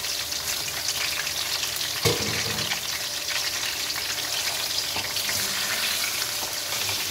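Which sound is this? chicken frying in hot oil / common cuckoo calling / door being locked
chicken frying in hot oil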